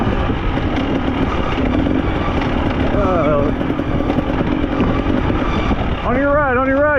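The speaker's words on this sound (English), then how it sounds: "Tyler 817 rides a Yamaha." Yamaha dirt bike racing in a cross-country event, its engine a loud continuous drone with rising revs near the end, heard from the rider's perspective.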